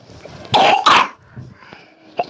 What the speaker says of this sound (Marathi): खोकला येतोय ना?